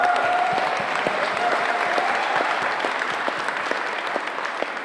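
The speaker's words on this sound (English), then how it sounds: "Big round of applause to all of us that we actually get to be here in the same room." Audience applause fills a county and state recovery update meeting in Puna, a dense, steady wash of many hands clapping in one room with a faint tone running under the first half.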